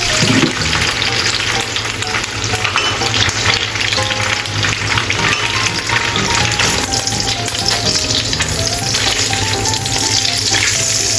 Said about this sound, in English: Fry egg tofu until both sides turn golden brown.